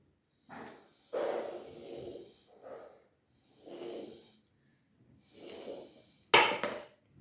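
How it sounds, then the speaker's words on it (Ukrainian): Someone blows through a drinking straw to push a small cup across a table, producing a series of soft, breathy airy puffs separated by pauses and ending with a sharper, louder blast, close up in a quiet room. "Дихаємо в трубочку біля стаканчика і переміщуємо його по столу."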